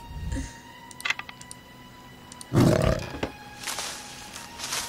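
Spiked tiger roar from the video game Botanica 2: Earthbound, a loud rough burst midway through, set among sparse clicking and chiming game effects, with no talking.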